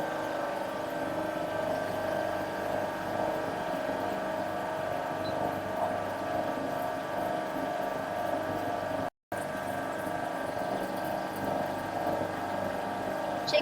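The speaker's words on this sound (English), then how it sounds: "And we check another compressor." An ice machine compressor running on a factory test stand gives a steady, close mechanical hum with constant tonal drone, briefly cutting out once before resuming.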